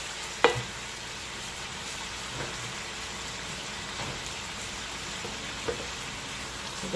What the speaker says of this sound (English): I'm going to let these onions and peppers cook in the meat,